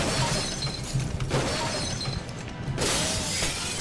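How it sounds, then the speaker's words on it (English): Glass shatters and falls in the Call of Cthulhu: Dark Corners of the Earth video game, a sustained crashing, tinkling burst with a second wave of breaking near the end, no talk. "Apparently we're not hurt by falling glass either."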